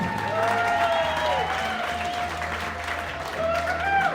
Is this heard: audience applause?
yes